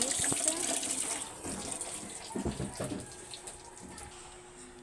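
Tap water runs into a sink while mangoes are washed, a steady splashing gush with brief handling knocks and shifts in flow, close by, and a voice speaks faintly underneath.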